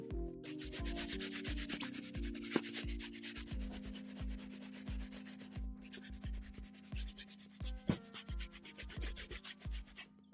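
A hard bristle brush scrubs sneakers in steady back-and-forth strokes, a rhythmic, close, rasping sound that keeps going without pause.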